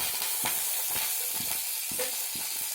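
A green chili and chopped garlic sizzle steadily in a hot pan, a continuous bright frying hiss broken by a few soft clicks of stirring.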